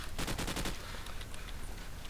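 Rapid SMG gunfire in Call of Duty 4 Promod, a loud burst of quick shots that fades into scattered softer reports and ambient game noise.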